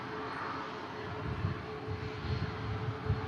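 Aircraft touching down at Manchester Airport, a steady distant engine roar with low rumbling swells toward the end, no talk.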